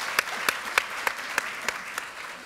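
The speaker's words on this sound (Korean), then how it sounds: "박수는 누구나 다 할 수 있게 뜨겁게 쳐주시기 바랍니다." A burst of hand clapping from a crowd at a Democratic Party of Korea floor leader election, dense and steady with a few sharp louder claps standing out, no voices.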